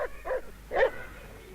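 A small dog barking at a hedgehog gives a few short, yippy barks over a constant background hiss, the last bark a little louder.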